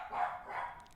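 A puppy barks in a short burst of a couple of yips, close and moderately loud, with no talk over it.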